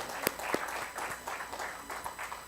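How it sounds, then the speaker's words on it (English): Scattered clapping from a small crowd, a few sharper claps standing out over a soft, continuous patter of applause. "I think that calls for an applause"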